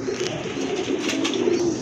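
Racer pigeons with red, pomegranate-coloured eyes cooing in a market collection, several birds at once in a steady, close, overlapping murmur with no talking.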